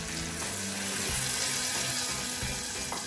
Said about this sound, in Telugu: ఇప్పుడు ఇందులోకి చింతపండు రసంని వేసేసుకుందాము.